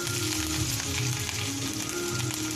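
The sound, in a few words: grated ginger added to a hot pan, sizzling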